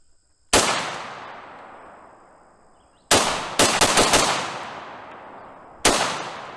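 A Desert Tech MDR-X bullpup rifle in 6.5 Creedmoor fires outdoors: one loud single shot, then a quick cluster of about five rapid bump-fire shots, then another lone shot, each blast ringing out with a long decaying tail.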